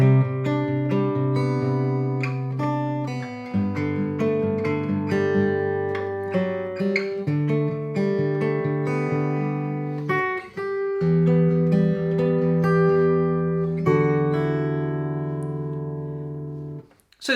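Guitar open chords finger-picked with over-ringing strings while a simple two-note melody sits on top, full and sustained, changing chords every few seconds, played alone and close up.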